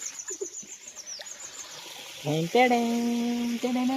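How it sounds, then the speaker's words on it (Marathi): Mountain water runs in a steady broadband rush at Shivdara, close and continuous, with a bird-like whistle near the start; a voice cuts in toward the end, partly over the flow. "डोंगरातलं पाणी येते सगळं इथं"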